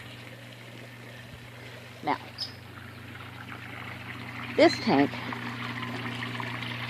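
Water from an aquaponics fish tank trickles and pours steadily into a backyard grow tank, a continuous close flow with someone talking over it.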